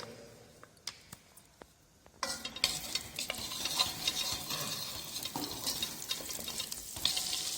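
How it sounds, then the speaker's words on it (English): In an oiled thick-bottom braising pan, a few light taps are followed by 15 grams of butter dropping in and breaking into a steady, fairly quiet sizzle that continues to the end. "Now we are adding 15 gram of butter"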